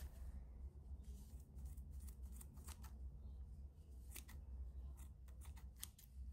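Scissors snipping the ends of crochet yarn on a bookmark, a series of quiet, crisp clicks and snips scattered irregularly over a low steady background hum.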